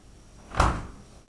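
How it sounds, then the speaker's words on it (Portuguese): A refrigerator door swings shut by itself with a single soft thud in an otherwise quiet room. "a porta da geladeira se fecha sozinha"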